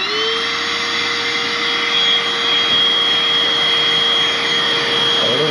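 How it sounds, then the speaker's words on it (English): A vacuum cleaner blows smoke from a small smoke candle into a wall cavity, running with a loud, steady whine and an even airflow roar throughout. "Vacuum here to push the smoke in."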